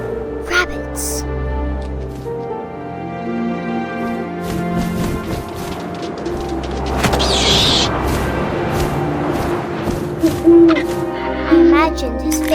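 An owl hoots in the video game What Remains of Edith Finch, rising clearly over wind, background music and a voice narrating throughout.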